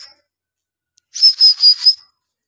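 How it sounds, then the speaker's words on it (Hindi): A person whistles four quick, sharp, high notes in a row to call pigeons, loud and close, after a brief silence. "सीटी मारता हूँ मैं"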